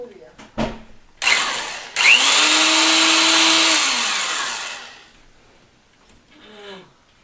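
A power drill with a number 43 bit whines loudly for several seconds repairing a bathroom shutter slat, its pitch sagging slightly under load before it spins down, with brief clicks and a short voice around it.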